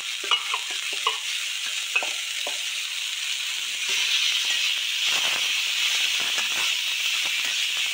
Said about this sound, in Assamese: এফালে ঢেকীয়া ভাজি আছোঁ